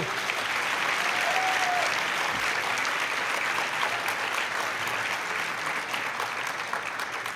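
Sustained, loud applause from a large audience at the 2025 ITLA annual installation dinner, a continuous even roar of clapping that holds for over seven seconds.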